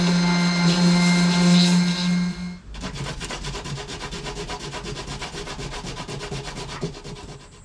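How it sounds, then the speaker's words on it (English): A hand sander works a surfboard during a full restoration, first alongside a loud droning hum, then alone as rapid, rhythmic rubbing strokes close by. "then I'll just use the hand sander at the last part to really try to get the shape of the"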